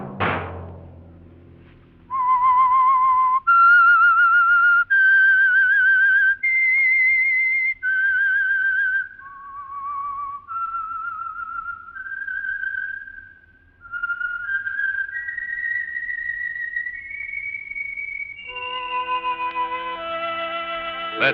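A clear, solo whistled melody, the theme of The Whistler radio mystery program, with sustained, slightly wavering notes stepping up and down, finishing on a fuller sustained tone.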